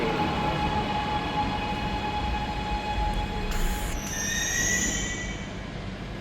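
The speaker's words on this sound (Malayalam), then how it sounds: "underground metro" Underground metro train in Mumbai running through a tunnel, a loud continuous rumble with a sustained high metallic tone and shrill wheel squeals rising in the second half.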